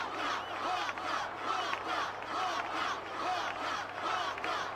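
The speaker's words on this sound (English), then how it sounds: "Why is everyone cheering for Waka?" Dense crowd cheering and roaring from a stadium audience during a blitzball match in Final Fantasy X, a steady loud wash of voices with rhythmic surges, continuous throughout.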